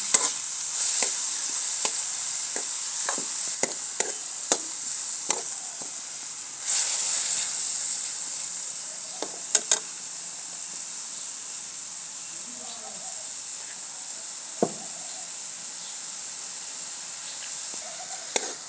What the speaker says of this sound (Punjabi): ਇਹਨਾਂ ਨੂੰ ਆਪਾਂ ਚੰਗੀ ਤਰ੍ਹਾਂ ਭੁੰਨਾਂਗੇ ਮਸਾਲੇ ਨੂੰ